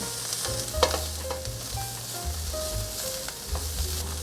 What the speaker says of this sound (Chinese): 炒到所有味道都融合在一起，我大概炒了2-3分钟